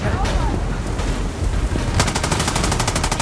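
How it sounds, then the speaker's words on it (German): Rapid automatic gunfire with incendiary rounds in the video game Far Cry 6, a dense burst of sharp repeated shots that grows into a fast steady rattle, loud and close. "Oh, Brandgeschosse."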